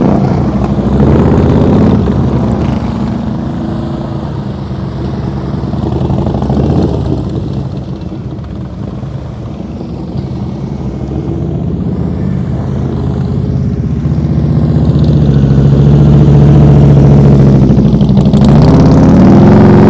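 A motorcycle engine runs at low throttle during slow-speed riding practice, a continuous close rumble that dips in the middle and rises again toward the end, with no talking.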